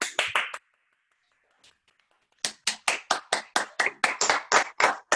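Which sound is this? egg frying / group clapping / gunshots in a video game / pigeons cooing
group clapping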